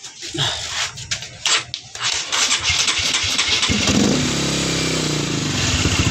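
A motorcycle engine, after a push-start fault repaired through the battery, relay and starter wiring, is cranked with a few sputtering attempts, then catches and settles into a steady, close idle.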